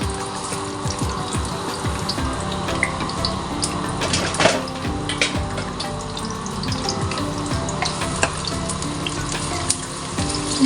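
Sliced onion frying in hot cooking oil, a close, continuous busy sizzle and crackle that stays steady throughout with no voices.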